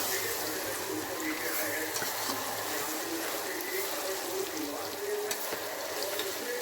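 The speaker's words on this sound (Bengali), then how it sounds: "হলুদটা দিয়ে দিয়েছি। ভালো করে একটু মিক্সড করে দিই।" Spices and turmeric fry in a pan for chicken curry with a dense, constant sizzle and faint scraping as they are mixed, and a low hum sits underneath.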